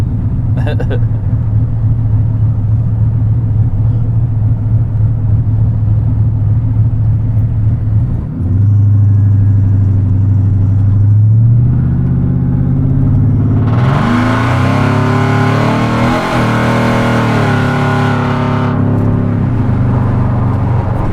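A 1957 Chevy Bel Air engine rumbles steadily while driving, then climbs through a long, loud rev and settles back to a low drone, with voices talking over it.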